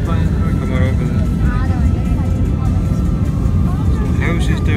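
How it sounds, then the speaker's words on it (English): Airplane cabin roar during a steep descent into Kathmandu, Nepal, a loud steady broadband engine and air rush with a person talking over it throughout. "With the most amazing descent I've ever been on in an airplane."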